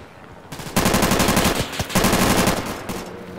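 Rapid automatic gunfire from the Insurgency game rattles in two long, loud bursts separated by a short pause, the shots dense and close with no talk over them.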